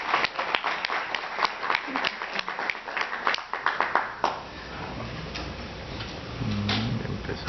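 Lecture-hall audience clapping to welcome a speaker at a criminal law debate, a dense burst of hand claps lasting several seconds before fading into room murmur.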